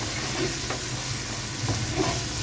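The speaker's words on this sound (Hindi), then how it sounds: "थोड़ी देर इसे फ्राई करेंगे, अच्छी तरह से हम इसे फ्राई कर लेंगे।" Mutton frying with black pepper and spices in a pan, a steady close sizzle with soft stirring scrapes now and then, no voices.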